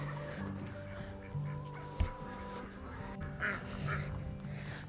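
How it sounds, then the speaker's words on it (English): Backyard chickens clucking and squawking close by on a farm morning, several overlapping calls with a sharp bump midway. "Good morning, chickens."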